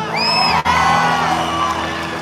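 A live arena crowd in Chile cheers, whoops and yells in welcome of a visiting international singer, a dense, loud roar of voices filling the space with a brief dip before surging again.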